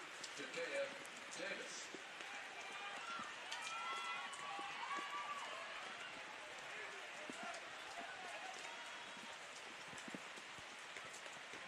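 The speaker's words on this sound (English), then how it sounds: "And you can tell the rain has really picked up." Rain falls at a women's college soccer match between Binghamton and Bryant, a steady broadband hiss of heavy rain on the field under a commentator's voice and faint crowd noise.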